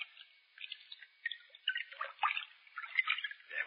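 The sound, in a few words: person stepping into bathtub water, radio drama sound effect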